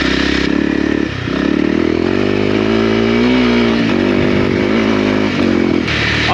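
A 2022 Honda CRF300L motorcycle fitted with an aftermarket exhaust line runs loud and close, its engine revving and holding steady in a rough, continuous drone for several seconds with a brief dip, no voices.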